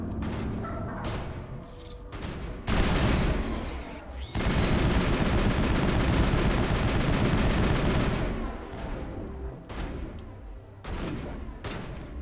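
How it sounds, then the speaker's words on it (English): Loud bursts of gunfire and sustained automatic shooting erupt in a Mass Effect firefight, with a few separate sharp shots before and after the long barrage. "Rex, you're shooting at the thing I'm taking cover behind."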